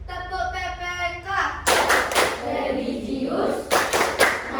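A class claps together in the Tepuk PPK clap chant. Voices call out first, then sharp bursts of clapping come in a rhythmic pattern, interleaved with chanted words.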